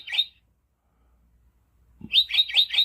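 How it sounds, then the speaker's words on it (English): A prothonotary warbler song from the Cornell Lab bird sound book: a short high chirp, a pause, then a quick run of four bright, loud whistled notes. "The prothophonotory warbler"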